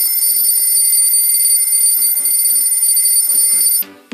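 Bright, loud ringing alarm clock bell, a continuous metallic jangle lasting nearly four seconds before cutting off abruptly.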